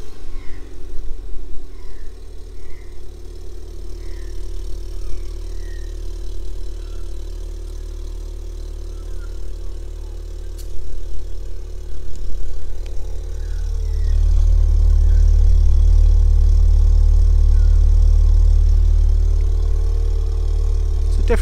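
A Ford Fiesta ST with a new downpipe and sports cat starting for the first time, then settling into a loud, steady idle with a deep low drone after the start.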